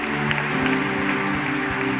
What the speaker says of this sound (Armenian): Եկեք բարձր ծափարենք ասենք։